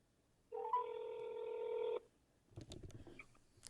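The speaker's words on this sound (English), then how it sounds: "Maybe I'll call Casey on the phone, see if he'll pick up." Telephone keypad tones sound as someone dials out to call a friend: a steady, fairly loud stacked tone of about one and a half seconds, then a brief pause and a quicker burst of irregular clicks and beeps.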